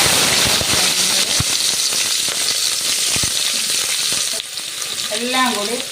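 Sliced onions, green chillies, curry leaves and fennel seeds sautéing in a pan, a close, loud, crackling sizzle with stirring scrapes, then a voice speaking briefly near the end.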